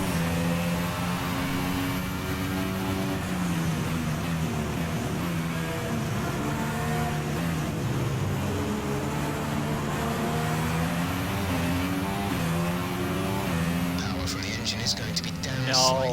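A Formula 1 car with engine issues races in the F1 2016 video game, its high whining engine rising and falling through gear changes for the whole stretch, while someone talks over it.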